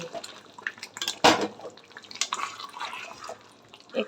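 Water poured into a pan of oily, browned meat hisses and splutters, with a loud burst of sizzle followed by scattered crackles and drips.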